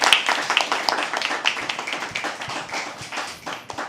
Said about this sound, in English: Can we please have another round of applause for him?